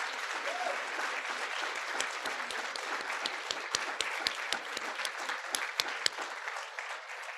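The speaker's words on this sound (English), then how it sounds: "let's give them a round of applause as well" Audience applause for faculty members rising at a spring 2022 education pinning ceremony: a dense, steady roar of many hands clapping at close range, continuing without a break.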